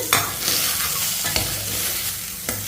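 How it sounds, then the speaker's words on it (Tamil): Radish being stir-fried in a pan for a weight-loss recipe, with steady close sizzling and several scraping stirs of a spatula against the pan; no one speaks. "ஒரு 2 நிமிஷத்துக்கு முள்ளங்கியை நல்லா வதக்கிடுவோம்."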